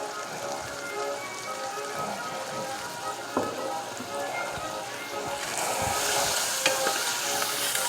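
Vegetables sizzling in oil in a pan while being stirred for a Creole creamy shrimp pasta, a steady close crackling hiss with occasional scrapes and taps that grows louder toward the end, with faint talk underneath.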